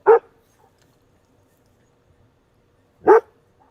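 Two short, loud dog barks played back from a recording, one at the start and another about three seconds later, each clipped and compact with near silence in between.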